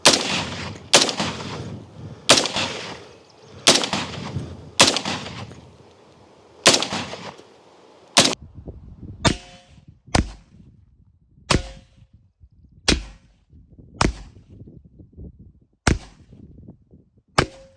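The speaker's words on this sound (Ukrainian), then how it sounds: "Зараз буду стріляти близько 12 разів з АР-15 бойовими набоями" A series of sharp, loud AR-15 rifle gunshots with live rounds fired at armor plate, about a dozen spaced a second or so apart, each cracking out with a short echoing tail.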